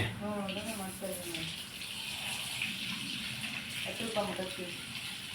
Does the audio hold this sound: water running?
yes